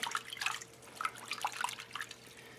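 Microgreens are swished and rinsed by hand in a bowl of water, making soft, close splashes and light drips in small irregular bursts at low volume.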